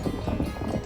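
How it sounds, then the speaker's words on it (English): A horse runs fast with dense, steady clip-clop hoofbeats, fairly near and even in loudness throughout. "That's a horse."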